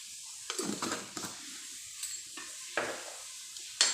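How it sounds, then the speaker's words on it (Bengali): Okra pizza topping is tossed with kasuri methi in a bowl, giving irregular bursts of wet scraping and stirring, close and moderately quiet, with short pauses between strokes and a small clink at the close. "এবার এটাকে ভালো করে মিক্সড করে নিচ্ছি।"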